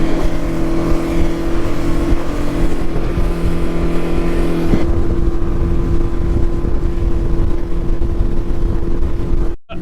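A motorboat cruises offshore with a loud, steady engine roar and wind buffeting the microphone, the drone shifting partway through and cutting off abruptly at the end.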